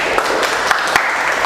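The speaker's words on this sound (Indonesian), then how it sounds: "Jadi tepuk tangan untuk kita semua." Students applaud together in a nursing education classroom after a presentation, a short stretch of steady group clapping with a few sharper individual claps standing out.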